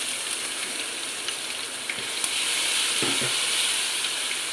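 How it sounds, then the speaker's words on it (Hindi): Garlic-ginger paste sizzles in hot oil in a pan of mutton pulao, a dense steady crackle close by, getting louder partway through as it is stirred, with no talking. "अब इसमें हम लहसुन अदरक का पेस्ट डालेंगे"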